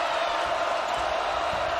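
A basketball arena crowd at a Wisconsin Badgers versus Michigan Wolverines game makes a steady, dense roar of cheering that carries evenly throughout.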